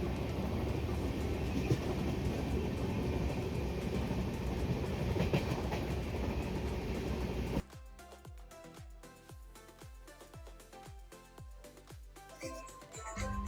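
A passenger train on the Kerala to Meghalaya route rolls steadily on its rails with a loud, continuous rumble. Midway the sound shifts to a crisp, rhythmic clickety-clack of wheels over rail joints.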